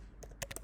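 A few quick key presses on a computer keyboard while entering text, a short burst of about four close, crisp clicks over a quiet room.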